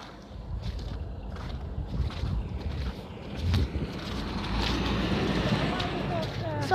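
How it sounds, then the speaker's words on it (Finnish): Outdoors, a passing truck brings a broad rumbling roar that swells over several seconds and stays loud to the end, mixed with gusty wind noise on the microphone. "Sori toi reka-ääni"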